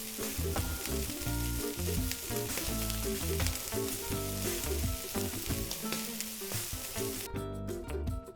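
A whole branzino brushed with garlic herb oil sizzles steadily on a hot grill, with a continuous close crackle under music.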